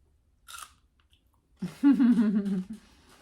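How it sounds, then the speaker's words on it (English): Close crunching of food being chewed, a short crisp burst followed by a louder stretch of wet, crackly chewing close to the mic in a quiet room. "I'm gonna crunch."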